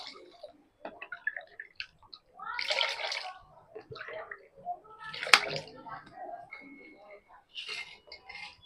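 Water from a measuring cup goes into a pot of sugar for syrup, giving bursts of splashing pours mixed with light taps and clinks of the cup and vessel.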